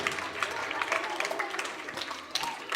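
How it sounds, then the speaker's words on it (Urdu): An audience at a religious conference in a madrasa claps in a loose, uneven burst of applause while voices speak over it. "زوردار تالیاں."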